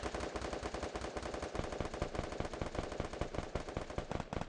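Dense, continuous automatic gunfire in the video game Free Fire, rapid bursts rattling nonstop and loud throughout, with no voices.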